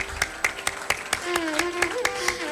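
An audience in a university auditorium at an international chemistry symposium claps in a steady, evenly spaced rhythm. The sharp, close claps ride over a faint sustained tone and a voice.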